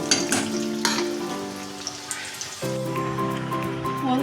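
Rohu fish cutlets fry steadily in hot oil, a dense close sizzle running throughout, with light scraping as a spoon spreads oil over the tops and a faint tonal hum from the stove or room.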